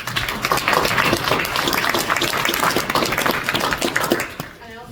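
Indoor audience at a Republican county committee gathering breaks into applause, a dense sustained clatter of many hands that fades out near the end, with some voices mixed in.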